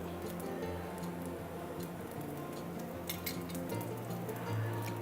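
Cashews sizzling in a little hot oil in a pan, a steady dense crackle with light popping ticks, close and continuous throughout.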